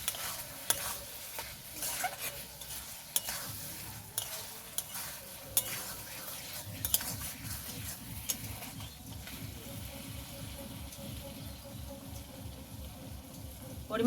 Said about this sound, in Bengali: দিয়ে দেবো কাঁচা লঙ্কা চেরা, এটাকেও ভালো করে মিক্স করে নেব।